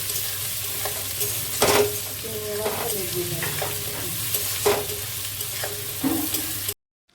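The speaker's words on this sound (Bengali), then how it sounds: "পেঁয়াজটা ভাজা ভাজা হয়ে যাওয়ার পর দিয়ে দেবো কেটে রাখা আলু" Cut potatoes stirred into onions frying in oil, with a steady sizzle throughout and several louder scraping stirs of a spatula against the pan.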